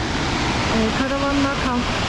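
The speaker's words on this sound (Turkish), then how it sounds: "Eğer buraya yolunuz düşerse mutlaka bu şelaleyi de görmenizi tavsiye ederim." Tvindefoss waterfall in Norway roars as a loud, steady broadband rush, with a faint voice briefly audible over the constant noise of falling water.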